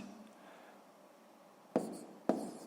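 A pen writes numbers by hand for a long multiplication in a sixth-grade math exercise, a faint continuous scratch on paper followed by two sharper strokes or taps near the end.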